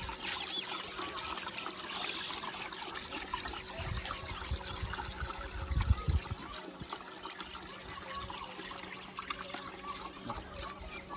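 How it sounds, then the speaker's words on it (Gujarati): Medicine is stirred into water for bathing a pigeon, giving faint trickling and sloshing with a few louder splashes midway. "આપણે પહેલાં દવાને સરખી રીતે આમાં પાણીમાં મિક્સ કરી નાખા"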